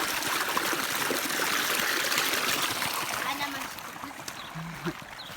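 Water rushes steadily into a dug channel in a village garden, a loud, dense splashing flow that eases slightly toward the end, with faint voices nearby.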